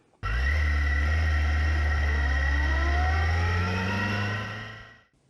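A motorcycle pulls away and accelerates, its engine note climbing in steps as the rider shifts up through the gears, loud and close, then fading out at the end.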